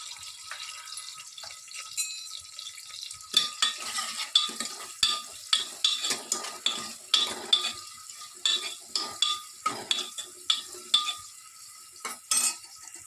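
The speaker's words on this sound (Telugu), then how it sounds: "ఆయిల్ బాగా హీట్ ఎక్కాక ముందుగా కట్ చేసి పెట్టుకున్నటువంటి వన్ మీడియం సైజ్ ఆనియన్ని కట్ చేసి వేసుకోవాలి" Chopped onion, one medium size, frying in hot oil for chicken haleem, a soft continuous sizzle broken by repeated scraping and clinking of a spoon stirring the pan.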